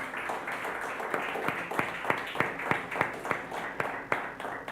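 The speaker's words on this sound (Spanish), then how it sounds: "Vamos a dar un aplauso a los chicos." A small church crowd claps steadily and fairly briskly, the sharp hand claps rising above a murmur of room noise for several seconds.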